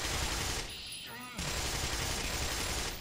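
Gunfire in the video game Black Mesa: dense, continuous shooting with a dip partway through, fairly loud throughout, with speech-like sound mixed in.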